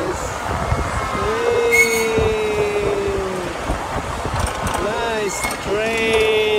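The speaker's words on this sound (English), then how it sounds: "they are on a train." A miniature train rolls along its rails with a continuous rumble and drawn-out metallic wheel squeals, close by, while voices murmur in the background.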